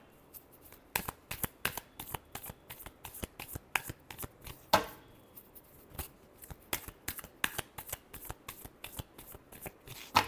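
Tarot cards are shuffled by hand close up, giving a quick series of crisp riffling and slapping bursts in an irregular rhythm with no talking.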